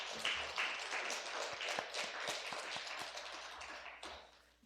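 Congregation at a Wednesday prayer service applauding a missionary pastor, a moderately faint, steady patter of clapping with scattered sharper claps that thins out toward the end.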